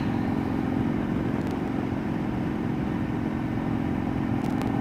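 Motorcycle engine running steadily while riding, with handling on new handlebars and the engine running slightly rich; a continuous, loud mid-frequency drone with no talk.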